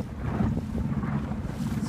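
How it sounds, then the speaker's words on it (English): Low, rumbling wind buffets the microphone steadily throughout, with a faint hiss of open water and boat noise beneath it. "It's a windy day."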